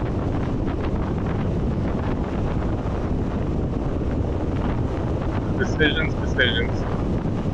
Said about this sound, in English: it's a little windier than I thought it was going to be